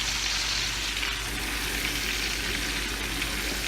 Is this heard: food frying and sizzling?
yes